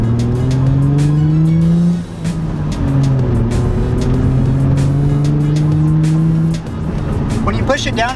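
Nissan 350Z driving off with its engine revving and pulling through two gear shifts, loud and close from inside the car, with a brief crackle of road or tire noise near the end.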